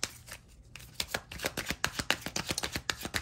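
A deck of tarot cards being shuffled close up: a fast, steady run of crisp riffling card flicks that keeps going for a few seconds, with no voices.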